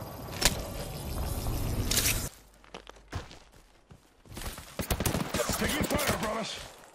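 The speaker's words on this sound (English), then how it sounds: "Taking fire, brothers." Apex Legends gunfire crackles in rapid bursts and scattered single shots, loud and close, dropping to a lull midway before heavier volleys return, with a voice talking over it.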